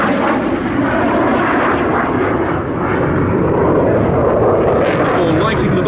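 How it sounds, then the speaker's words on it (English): A Eurofighter Typhoon at an air show, its twin Eurojet EJ200 turbofans on afterburner, roars loud and continuous with a broad, rumbling thunder throughout, while a commentator talks over it. "The burners once again on the two Eurojet EJ200 turbofan engines"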